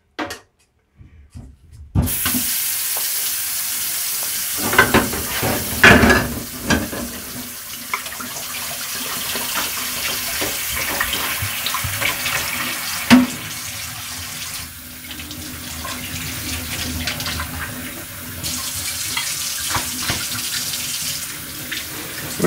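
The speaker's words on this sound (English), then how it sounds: "I'm going to use hot water to rinse the bottles out." Hot tap water rinses wine bottles in a sink, sanitized with bleach: a near, continuous gushing and splashing stream with a few knocks of glass and handling, after a brief silent start.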